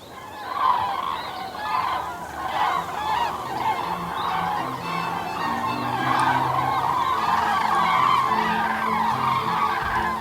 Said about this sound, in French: Et c'est quoi comme oiseau? C'est des grues.